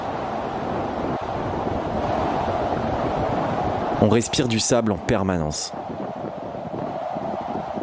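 Strong crosswind on a desert road near the Morocco–Mauritania border buffets the microphone with a loud, continuous roar, as motorcycles push on through blowing sand; someone speaks briefly over the gusts midway.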